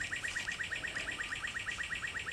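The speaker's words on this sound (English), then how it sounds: "The birds are happy because it just rained." Garden birds after rain, a quick series of bright, evenly spaced chirps repeating in a steady rhythm, fairly close and clear over faint background hiss, with no talking.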